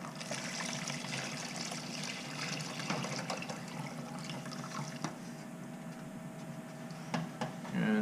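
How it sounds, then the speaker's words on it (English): Pulled pork juice pours from a container into a bowl as a steady liquid trickle and splash. It runs continuously for the whole stretch at moderate, close level, with a few brief clinks near the end. "I'm going to pour the juice in a bowl."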